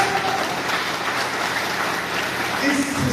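Audience applause at a business seminar fills the room as a dense, steady patter of many hands clapping, sustained for a few seconds with a voice faintly underneath.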